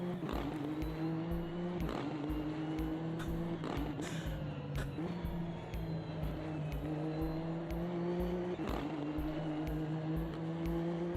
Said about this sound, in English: go external so you can hear the external exhaust notes on this car, especially through gear change